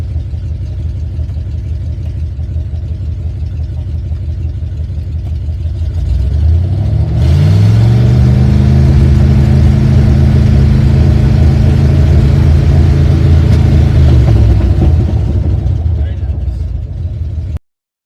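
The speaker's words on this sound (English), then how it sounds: "What it's like driving a Chevy 3500 gasser." A Chevy 3500 gasoline pickup truck engine drones steadily while driving, loud and close, its note rising in pitch as it accelerates, then holding a sustained cruising hum before easing off.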